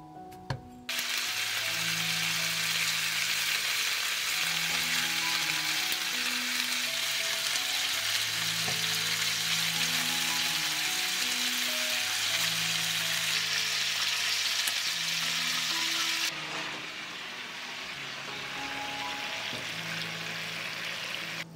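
Chopped sausage pieces sizzle steadily in a frying pan, a continuous loud crackle with faint clinks and a low musical tone underneath, easing slightly toward the end.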